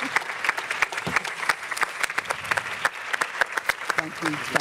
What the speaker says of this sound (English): Can we get another round of applause for Doug?